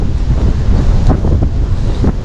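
Strong wind at sea during airgun fishing, buffeting the microphone in a loud continuous roar with gusty surges and a wash of waves beneath, no voices.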